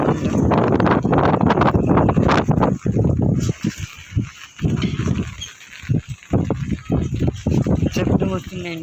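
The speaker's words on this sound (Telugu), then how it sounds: "చూడండి గాలి ఎలా ఉందో." Gusty outdoor wind buffets the microphone in drizzly weather, a loud, rough rumble that rises and falls in uneven bursts throughout.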